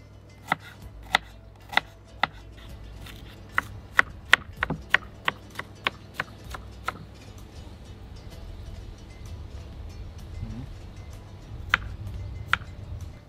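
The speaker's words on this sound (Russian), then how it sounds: "Лук нам нужен для фарша. Его нам необходимо очень тонко нарезать и обжарить." An onion finely chopped with a knife on a board for dolma filling, a series of crisp, close knife taps in an uneven rhythm, then sparser cuts after a pause.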